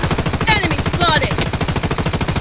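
Rapid automatic gunfire in the BloodStrike mobile shooter, a steady, dense rattle of evenly spaced shots running the whole time, with brief game voice callouts layered on top.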